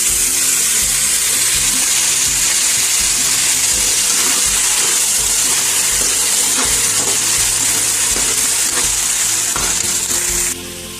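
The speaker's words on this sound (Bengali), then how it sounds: "একটু হালকা একটু পানি দিয়ে নেব।" Oats khichuri with pink salt sizzles loudly in a hot pan as a little water is added, a dense, steady hissing and crackling frying sound that runs unbroken and close before easing slightly at the very end.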